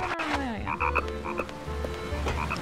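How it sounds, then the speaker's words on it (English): Frogs croak steadily and loudly from the Nightmare Before Christmas: Oogie's Revenge video game, a dense chorus of repeated croaks filling the whole stretch. "Why do I hear frogs?"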